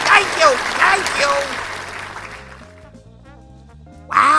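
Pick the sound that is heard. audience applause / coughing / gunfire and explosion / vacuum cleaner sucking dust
audience applause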